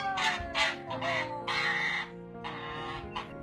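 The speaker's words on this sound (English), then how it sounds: "Looks like you're being attacked by an angry goose." An agitated goose gives repeated harsh, honking calls in quick bursts with short pauses between them, loud and close, with no talking.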